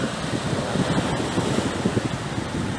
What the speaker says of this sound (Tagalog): Yung alon, papalo na sa amin yan, maya-maya.